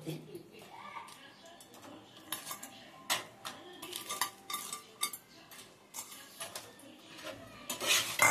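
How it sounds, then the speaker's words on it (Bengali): Fried cornflour-coated prawns are stirred in a pan, with a metal spatula clinking and scraping against the pan in quick, uneven strokes while a voice talks over it. "দিয়ে নাড়াচাড়া করে দিয়ে দিলাম"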